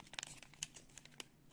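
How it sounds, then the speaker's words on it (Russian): A small plastic packet tearing open while unwrapping paper surprise collectibles, heard as faint, close crinkling and a few short sharp rips spread irregularly, with no one speaking. "пакетик порвался"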